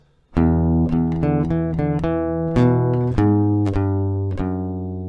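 Plucked acoustic guitar notes of the E part of a song ring out in a steady, unhurried pattern, starting on the open E bass string, each note sustaining into the next, played solo and close.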